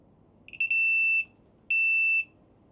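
A newly installed smoke detector sounds when powered on: a short chirp stutter, then two long, loud, piercing high beeps separated by a brief pause, alone in a quiet room.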